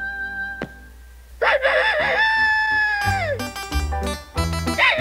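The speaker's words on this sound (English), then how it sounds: "they've brought out a whole compact disc of rooster crows." A cartoon rooster crows loudly and close, a long rising-then-falling call, followed by more overlapping crows and clucking from other birds.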